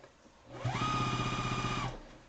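An electric sewing machine stitches fabric for an N95-style face mask in one short steady burst of a little over a second, a close whirring hum with rapid needle ticking that winds up and stops.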